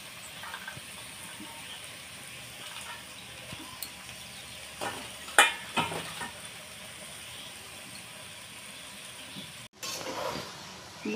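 Shredded cabbage frying in a pan for a Bengali cabbage ghonto, a quiet steady sizzle with a few scraping stirs partway through.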